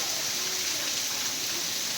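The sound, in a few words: rain falling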